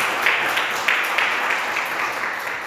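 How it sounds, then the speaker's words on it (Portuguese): Church congregation applauding together, a steady wash of dense clapping filling the room at moderate level with a few sharper individual claps standing out, no talk over it. "Vamos aplaudir o Senhor."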